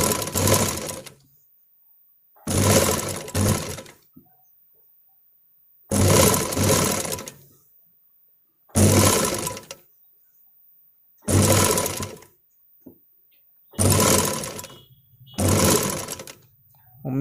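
Sewing machine with a presser foot stitching piping, running in short loud bursts of rapid whirring, about seven runs separated by near-silent pauses, close up with no voices.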